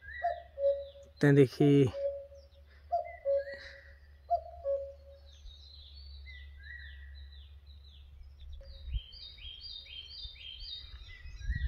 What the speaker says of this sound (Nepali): अब यो चराचुरुङ्गीको आवाज भयो होइन